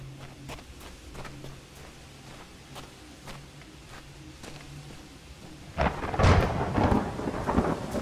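A video game thunderstorm with steady rain and scattered sharp thunder cracks, building to a loud, close rumbling thunderclap near the end.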